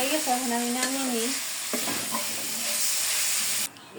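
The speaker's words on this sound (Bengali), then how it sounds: "লাউ ভাজা" Bottle gourd fries in a pan with a steady, close, broadband sizzle that carries throughout, opening with a brief tonal hum before ending abruptly.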